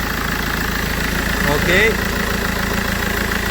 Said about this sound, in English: I'm gonna leave the car running to burn all the oil that's on the turbo and on the particle filter